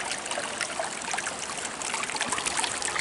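Stream water trickles and burbles over stones at an old ford crossing, a continuous close babbling with small splashes scattered throughout and no speech.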